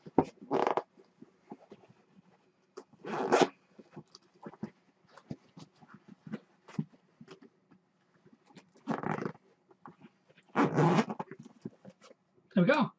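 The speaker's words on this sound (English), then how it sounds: "It folds in, and then you can zip it up." A zipper is pulled shut on a folding bag in short bursts, a few quick rasping strokes close by with pauses between them.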